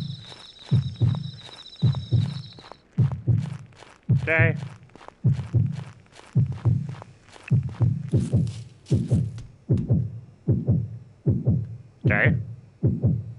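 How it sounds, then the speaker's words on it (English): Heartbeat sound effect in the Yomawari video game, a steady, loud, low double-thump pulse repeating throughout, with occasional game sounds and brief speech over it. "Heartbeat."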